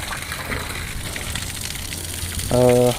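Water sprayed onto stonework at a house construction site at plinth level, a steady broad rushing hiss that runs continuously and swells slightly louder near the end, with a brief tonal hum over it.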